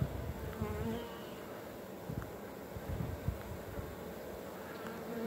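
A swarm of bees drones in a steady, dense buzz close by. It holds an even level throughout, with individual insects flitting past now and then.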